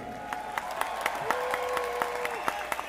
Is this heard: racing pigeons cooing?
no